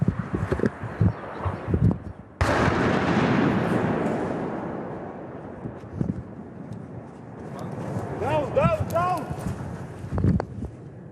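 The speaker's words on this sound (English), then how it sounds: "as we filmed, still Russian missiles were targeting Ukrainian positions nearby" A Russian missile strike lands near Ukrainian positions: a sudden heavy boom followed by a long rumbling decay. Voices talk before and after the blast.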